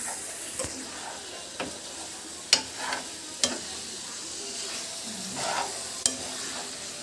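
Chicken leg pieces fry in a pan with a soft, steady sizzle while a utensil stirs and scrapes in a few sharp, separate knocks, close and moderately quiet.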